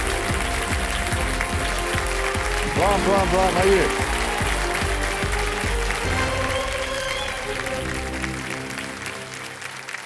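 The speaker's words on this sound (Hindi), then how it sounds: "जोरदार तालियों के साथ इनका स्वागत किया जाए।" Studio audience applause at a KBC 2025 quiz show greeting a contestant, steady dense clapping filling the whole stretch under an excited host's voice, fading slightly toward the end.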